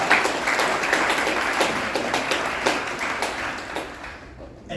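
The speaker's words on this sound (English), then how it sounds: "that's worth clapping for" A church congregation applauding baptisms at an evening service, a dense, steady wash of many hands clapping at moderate distance throughout, fading toward the end.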